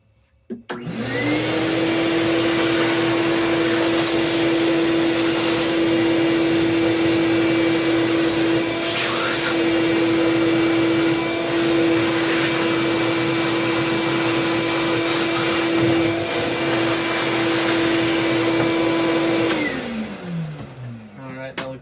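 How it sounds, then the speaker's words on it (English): A vacuum motor spins up, holds a steady loud whine with a high tonal hum for about twenty seconds while cleaning dust from a PS5 console, then winds down. "Give that a nice little brush and vacuum as well."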